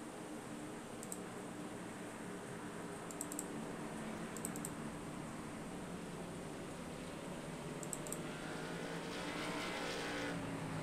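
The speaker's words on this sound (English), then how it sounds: "Everybody coming down pit road." Race cars roll down pit road at Pocono Raceway, a steady broad engine roar that swells slightly toward the end, with scattered sharp clicks above it and no talk.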